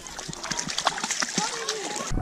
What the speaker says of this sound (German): Kira geht das erste Mal ins Wasser von selber